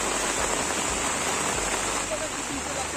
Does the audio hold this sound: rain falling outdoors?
yes